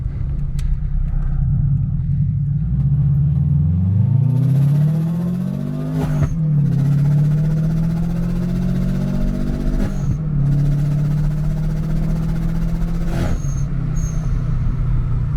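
A Subaru WRX fitted with an HKS blow-off valve drops through the gears, its loud engine note sliding downward between sharp hissing valve bursts that repeat several times, close and unaccompanied by talk.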